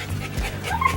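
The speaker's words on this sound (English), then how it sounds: "Got a dog out here that's upset." A distressed dog at a lake dock gives short whimpering yips and strained barks, close and steady for about a second over outdoor background noise.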